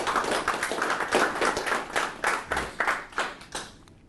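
A small audience at a Toastmasters club meeting claps for a presenter, a steady patter of individual hand claps lasting several seconds before tapering off near the end.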